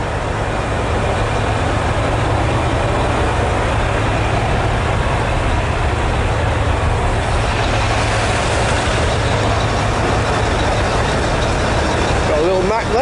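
A Mack truck idling at a chrome-shop truck show, a loud, steady diesel rumble that holds at a constant level throughout, with a faint shifting hiss and murmur around it.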